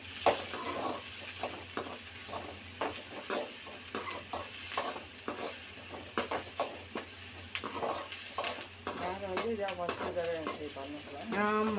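Onions fry in a kadai with a constant close sizzle. A spoon stirs and scrapes against the metal in frequent clicks and taps, and faint voices may sit underneath.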